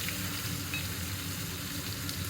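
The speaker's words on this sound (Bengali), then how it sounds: "শুকনো লঙ্কা ফোড়ন, গোটা জিরা আর পেঁয়াজ, যে ছোট একটা পেঁয়াজ কুচি করে রেখেছিলাম, এটা দিয়ে দিই" Chopped onion, whole cumin and dried chilli frying in hot oil for a potol chingri curry make a steady, close sizzle and hiss that stays even throughout, with no talking over it.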